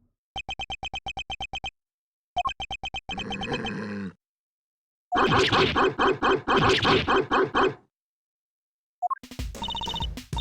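A dog wearing a bell around its neck barks and yips in Ace Attorney Investigations 2: Prosecutor's Gambit. Bursts of barking sit between quick, rhythmic text-scroll blips, loud and close, with short silent gaps.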